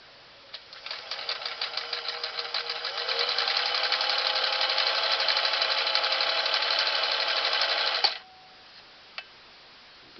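A Singer Model 457 Stylist sewing machine stitching, starting with slow separate stitch clicks that speed up into a steady close mechanical whir for several seconds, then stopping abruptly, followed by a couple of faint clicks.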